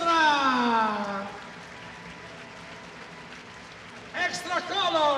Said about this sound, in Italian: Un grande applauso al pubblico di Tagliaccio!